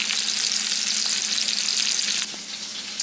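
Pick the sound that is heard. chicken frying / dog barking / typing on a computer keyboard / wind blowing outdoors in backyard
chicken frying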